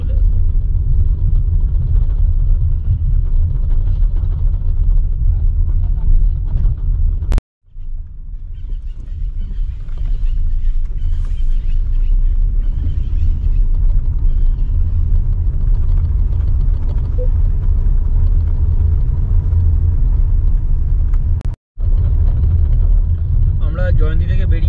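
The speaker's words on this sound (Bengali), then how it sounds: "তাই এগোচ্ছি একটু গাড়ি নিয়ে আস্তে আস্তে" A car rolls slowly along a road from Jayanti toward Buxa, its engine a steady low rumble with road noise heard from inside, dropping out briefly twice, while a person talks over it.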